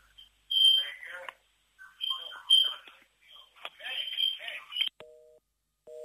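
A caller's voice crackles over a phone line in short bursts during a radio call-in, then the line cuts off as the caller hangs up and a repeating electronic tone beeps twice.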